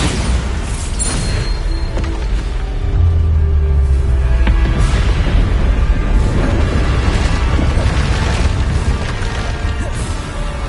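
Bombarda spell explosions in Hogwarts Legacy: repeated booming blasts and crashing impacts over a dense, loud game soundscape, continuing without pause.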